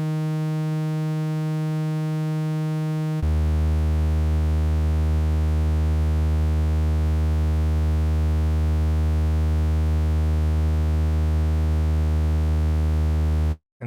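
Zebralette 3 synth tone with spectral distortion: a buzzy sustained harmonic note gives way to a louder, steadier drone with a slightly disturbed, colored edge, holding evenly before cutting off abruptly.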